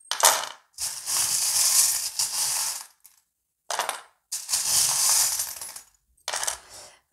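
Small metal divination charms drop and scatter in three separate clattering bursts, each a bright jangle of many tiny pieces spread over a second or two, with short silences between the bursts.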